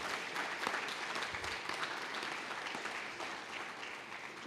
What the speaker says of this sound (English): Another round of applause for the people who